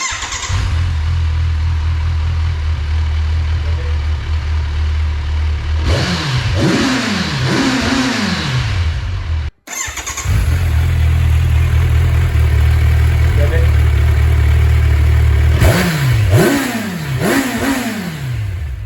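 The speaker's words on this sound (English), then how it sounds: "we're going to see what the standard exhaust sounds like," A car engine with its standard stock exhaust idles low and steady, then revs sharply in a few rising and falling bursts. After a brief cut it idles again before another round of quick revs, loud and close with no talk.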